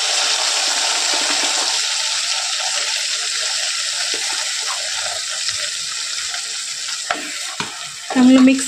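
Ground masala with coriander and turmeric powder is stirred and fried in a pan for besan vadi curry. A loud, steady sizzle fills the clip, with a few scraping stirs and a brief clunk near the end.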